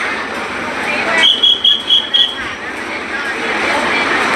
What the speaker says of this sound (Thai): คือรถไฟจะแล่นผ่านแล้วตอนนี้